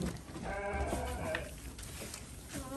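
A goat being fed bleats once or twice at close range, a short wavering cry that sits among low background voices and handling noise.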